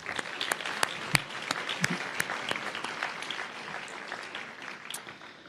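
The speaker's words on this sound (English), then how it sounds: "let's give this library a huge round of applause" Applause at the 31st Annual Emerald Awards ceremony honours the Calgary Central Library, a sustained crowd clapping with crisp nearby claps popping out over the dense wash.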